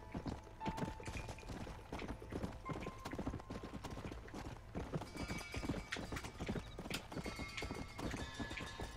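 Hooves clip-clop rapidly in a galloping rhythm, with a horse neighing, against a busy background in the video game Red Dead Redemption.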